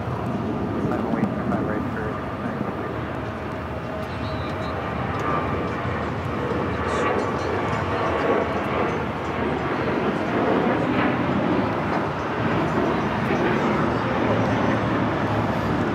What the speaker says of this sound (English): This is American Airlines 2608 taking off to Chicago on the 737-800.